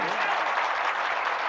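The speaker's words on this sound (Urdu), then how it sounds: "ایک بار زور سے تالیاں بجا کر نہیں بتائیں گے" An audience at an Urdu poetry gathering claps loudly on cue, a dense, even burst of applause filling the short stretch without a break.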